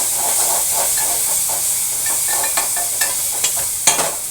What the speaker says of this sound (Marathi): आता फोडणी देतो